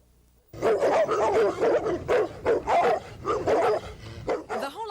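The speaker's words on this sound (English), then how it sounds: "Neighbors complain that up to 20 dogs roam the yard, are a nuisance and a health hazard." Several dogs bark repeatedly in a residential yard where up to twenty roam, loud close yaps in quick irregular bursts with a few whimpering yips, no talk.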